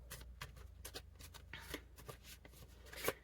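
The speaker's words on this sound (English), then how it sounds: "I am going to shuffle this deck off camera" A deck of cards being shuffled off camera, with a steady run of riffling and flicking snaps over a few seconds, fairly quiet and close, without talk.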